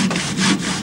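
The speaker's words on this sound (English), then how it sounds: "Get a saw and make one cut here," Hand saw cutting through small wooden ice cream sticks, a close, rasping stroke of the blade across the wood, loud and alone for under a second.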